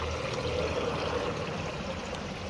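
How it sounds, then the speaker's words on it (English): A goldfish pond's waterfall feature, fed through drilled holes, runs in a steady close trickle and splash that holds at an even level throughout. "I drilled some holes in there, and that is what makes the waterfall feature in the back."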